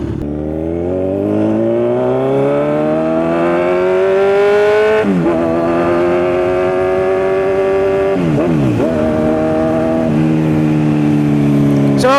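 A motorcycle on the San Juanico Bridge accelerates hard through several gear shifts, its rising engine whine loud and close with each upshift clearly marked.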